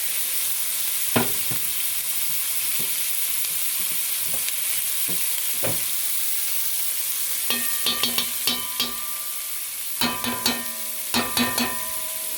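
Onion and bay leaves sizzle steadily in hot canola oil in a pot-roast pot, a continuous close hiss broken by scattered clicks and scrapes of stirring that grow busier toward the end.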